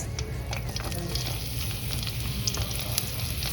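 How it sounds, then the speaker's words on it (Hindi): Onions shallow frying in oil in a pan over raised heat, giving a steady, close, moderately loud sizzle with faint crackles throughout and no voices. "अब इसे अच्छे से शैलो फ्राई होने देंगे"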